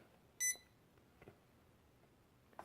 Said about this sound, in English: It's going to beep.